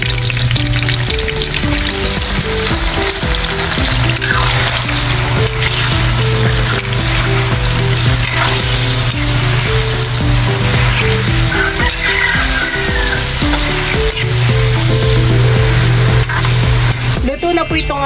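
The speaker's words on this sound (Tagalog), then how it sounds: "Ako po ngayon ay magpiprito na po ng mga hotdog." Hotdogs deep-frying in a pan of oil for street-food snacks, a steady loud sizzle and bubbling throughout, with a voice talking over it at times and a musical tone running underneath.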